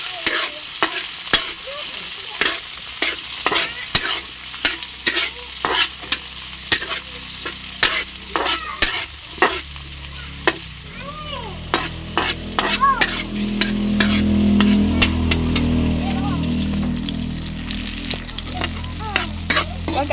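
Tomato frying in hot oil in a pan, a close crackling sizzle with sharp splatters and steady stirring scrapes, the sizzle swelling louder toward the end.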